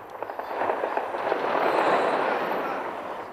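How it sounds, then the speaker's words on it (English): Anti-aircraft fire and explosions over the Libyan capital Tripoli, a dense, continuous rumble of distant crackling blasts that swells and holds steady, with faint voices under it. "the sound of anti-aircraft fire and explosions rang out across the Libyan capital, Tripoli"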